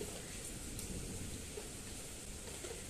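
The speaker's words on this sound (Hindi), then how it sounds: "आपको बाहर से आवाज़ आ रही होगी बारिश की" Steady rain falls outside, a dense continuous hiss of drops on surfaces that holds at an even level throughout, with no voices.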